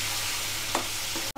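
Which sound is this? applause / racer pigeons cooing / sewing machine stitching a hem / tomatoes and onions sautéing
tomatoes and onions sautéing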